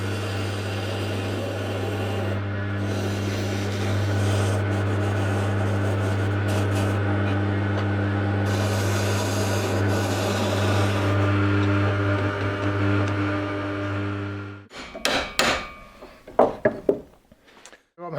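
A wooden cup blank being squared up on a lathe gives a steady, loud motor drone with a low hum and faint cutting noise for most of the stretch, ending in a few brief knocks and clatters once it stops.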